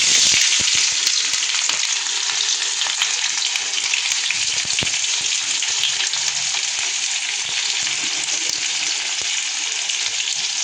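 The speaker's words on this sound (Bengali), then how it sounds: "তো এখন আমি এখানে পেঁয়াজটা দেখো, পেঁয়াজটা আস্তে আস্তে করে দিই। পেঁয়াজটাকে আগে ফ্রাই করে নেব।" Onions fry in hot oil for a chicken curry, a loud, dense, continuous hissing sizzle close up with scattered crackles and no voices.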